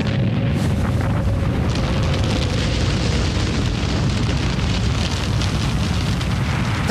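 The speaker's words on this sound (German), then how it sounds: "Die Bombe ist explodiert, General!" A bomb explodes in a science-fiction radio drama, a loud, sustained roaring rumble that fills the whole stretch without letting up, heavy in the low end with a crackling wash above.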